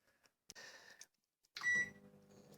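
A Kenwood GTAL17A combination microwave oven is operated with button presses, then gives a short, clear electronic beep near the end, following brief mechanical whirring and clicking.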